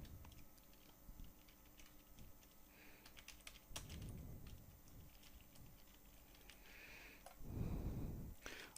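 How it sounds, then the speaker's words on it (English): Quiet, quick clicking of a computer keyboard as a short phrase is typed, irregular taps with brief pauses, faint and close. "I'll type thanks for watching."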